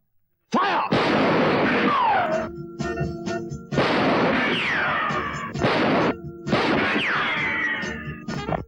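Guns fire in a dramatic film scene, three heavy booming blasts spaced a couple of seconds apart, each loud and close with a long ringing tail, no talking over them.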